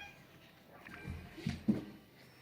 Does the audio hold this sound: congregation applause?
no